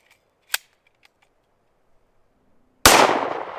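A single loud rifle shot fired over a chronograph during a Norma ammunition velocity test: a sharp blast with a decaying tail, preceded by a faint metallic click and scattered small handling sounds.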